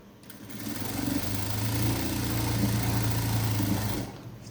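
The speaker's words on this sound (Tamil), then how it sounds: "ஸ்ட்ரைட் தையலாக ஸ்ட்ராங் தையல் போட்டு நிறுத்தியாச்சு" A sewing machine runs steadily while stitching a blouse with a strong straight seam, its motor humming and needle chattering continuously for about four seconds before stopping, with no talk.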